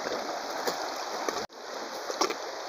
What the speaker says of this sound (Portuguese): motor elétrico que puxa a água do rio para molhar as plantações